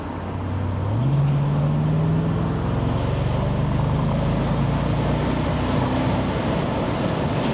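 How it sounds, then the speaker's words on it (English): Faint, steady V8 burble from a car being driven on the road, a low continuous engine rumble with a slight rise in pitch early on, then holding an even drone throughout. "You just get this little faint V8 burble"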